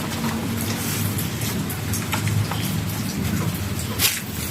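Rain falls steadily outdoors in a cemetery, a dense hiss of drops pattering on surfaces with a few sharper nearby splashes.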